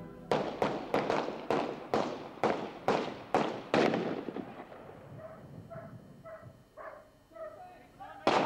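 Gunshots fired at a dog in a TV excerpt, about fourteen sharp cracks in a steady rapid series with echoing tails, followed by a dog yelping and barking faintly.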